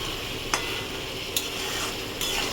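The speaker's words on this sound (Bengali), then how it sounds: "নেড়ে নিই। মাখা মাখা হবে," A spatula stirs morola fish curry (macher jhal) seasoned with black pepper powder in a pan, giving three sharp scraping taps over a soft, steady sizzle.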